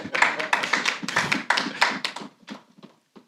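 Audience at an annual general meeting bursts into steady applause, many hands clapping densely and loudly at first, then thinning out into a few scattered claps as it fades.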